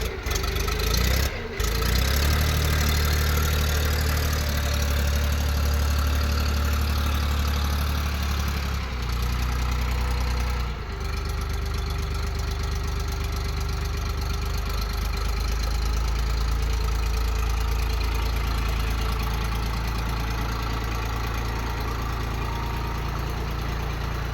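A Belarus 311 tractor with a 30 to 35 horsepower engine idles close by, a loud, steady low rumble with a faint knocking beat, holding an even level from start to finish.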